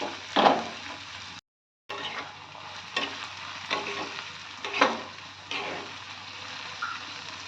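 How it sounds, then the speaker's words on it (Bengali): Chopped onion frying with turmeric powder in a pan, a continuous sizzle punctuated by sharp scraping and stirring clatters of a utensil, with a brief cut in the sound early on. "এখন দিয়ে দিচ্ছি পেঁয়াজ কুচি।"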